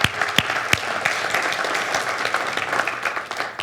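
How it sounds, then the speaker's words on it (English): Church congregation claps in a full, sustained round of applause filling the room, with a few sharp louder claps standing out near the start. "let's give a round of applause for them"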